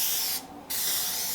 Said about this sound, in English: I'm going to use some Pam spray